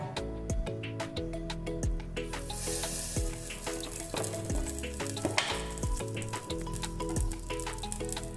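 Coconut pieces fry in hot coconut oil inside a pressure cooker, a steady close sizzle with frequent crackling pops and occasional stirring scrapes.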